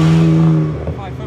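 Ferrari 575 with a manual gearbox, arriving at a car rally registration day, its engine a loud, close, deep rumble that fades within about a second while a person speaks over it.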